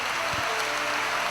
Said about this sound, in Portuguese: E todos, uma grande salva de palmas a Jesus